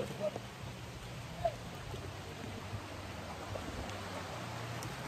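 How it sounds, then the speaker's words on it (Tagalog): Heavy rain falls steadily on a farm during a walk, a dense continuous hiss with a few faint knocks and footsteps. "ang lakas ang ulan dito"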